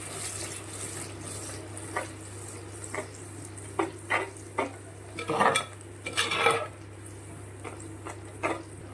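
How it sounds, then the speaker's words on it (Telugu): Tomato pulao mixture with tomato puree is stirred in a pan over a high flame, giving a continuous low sizzle beneath several close, scraping bursts of a spoon against the pan. "ఇప్పుడు హై ఫ్లేమ్ మీద బాగా కలుపుకుందాము."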